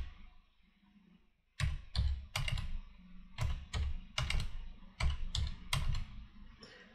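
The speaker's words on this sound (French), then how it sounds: "Je tape les valeurs lues." Fingers type levelling readings on a computer keyboard, a run of quick close clicks arriving in short bursts after a quiet opening second and a half.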